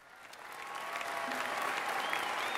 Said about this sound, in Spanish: Los aplausos fueron estremecedores en el set de grabación del programa